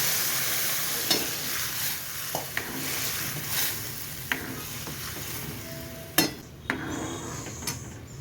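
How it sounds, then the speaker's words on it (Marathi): Cooked moong dal goes into a hot, sizzling tempering in a pan, a steady frying hiss with several sharp clinks of a spoon against the pot scattered through it. "फोडणी झाल्यानंतर यामध्ये आपलं शिजवून घेतलेलं वरण घालायचं आहे"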